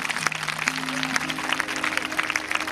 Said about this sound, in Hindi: एक बार अपने शहर के लिए तालियां हो जाए।